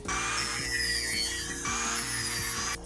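Scrap wood pieces being cut with a power tool for a DIY wall decor project, a steady close, loud whine running almost the whole time with a brief dip midway and stopping just before the end.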